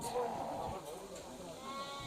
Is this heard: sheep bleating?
yes